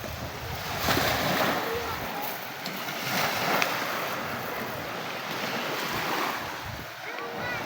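Sea waves at high tide surging around a fishing boat, a loud steady wash of surf and wind noise rolling continuously throughout.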